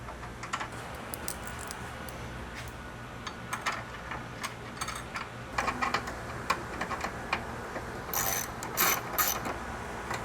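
A ratchet tightens a bolt on a TOM'S chassis brace under a GR Corolla, with rapid clicking strokes in short bursts, close and moderately loud, the clicks growing sharper toward the end.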